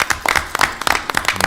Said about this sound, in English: I'm going to clap for her